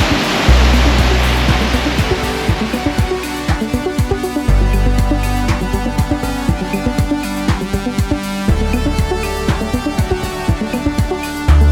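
Waterfall at Cascade Creek on the Milford Road, a loud, steady rushing roar of falling water filling the whole scene without pause, close by and with no voices.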